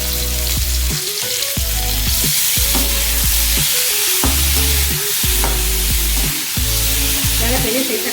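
Chopped onion and tomatoes for a spicy tomato chilli chutney sauté loudly in a pan over a fire, with a steady sizzle broken by repeated stirring scrapes and knocks throughout.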